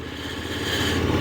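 A KTM 1290 Adventure S 2023 motorcycle engine running with a steady mid-pitched drone that builds slightly in loudness, close and alone without talk.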